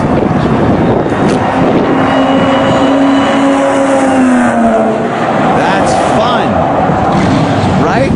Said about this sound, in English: You could hear the supercharger kicking in, and this is a lot of fun, man.